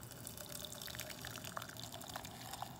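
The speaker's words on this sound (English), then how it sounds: "then I pour the sparkling, fantastic distilled hot water" Hot distilled water is poured into a mug holding a tea diffuser, a steady liquid splash with small drips running under continuous noise for a few seconds.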